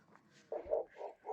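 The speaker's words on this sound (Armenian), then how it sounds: "շունը փակված տեղից է հաչում" A dog shut inside an enclosed place barks on a snowy winter day, giving a few muffled, moderately loud barks in quick succession after a faint opening yelp.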